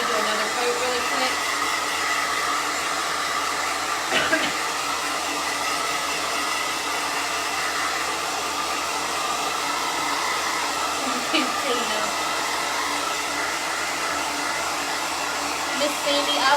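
A hair dryer blows steadily and loudly for the whole stretch, drying a fresh coat of paint on a sunflower painting, with a couple of brief knocks as it is moved.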